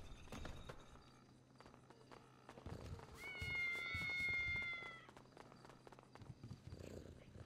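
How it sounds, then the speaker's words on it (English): Cats in GTA 5 meow, one drawn-out, high, clear meow standing out in the middle, over quiet, scattered shuffling and faint footsteps. "Lots of very, very good kittens."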